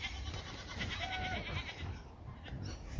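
Unhappy pigs squeal in an outdoor garden with metal beds, a steady stream of bleating, high-pitched animal cries lasting the whole moment at close range, with no talking.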